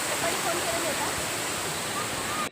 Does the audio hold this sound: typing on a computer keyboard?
no